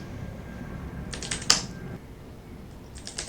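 Commands typed on a computer keyboard for an MS-DOS session, a short run of crisp close key clicks with one sharp louder stroke, then a few scattered taps over faint background hum.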